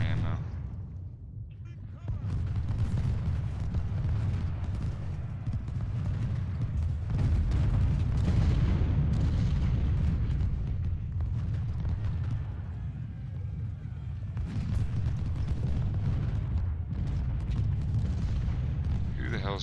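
Artillery fire rumbles through a battle in Ultimate General: Civil War as low, dense booms and distant explosions roll almost continuously, heavy and muffled, with a brief lull near the start.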